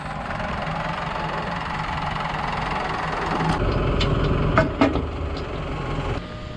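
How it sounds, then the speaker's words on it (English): A New Holland tractor engine runs while being parked on a farm, a steady close diesel rumble with knocking idle, joined partway through by several sharp clanks and metallic knocks before settling back. "Got that tractor cleaned up a little bit. He's just gonna park it right now, I think."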